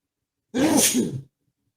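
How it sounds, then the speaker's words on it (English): One sharp sneeze, loud and close, bursting out suddenly and ending in under a second, with silence before and after. "Well, I'm about to sneeze again."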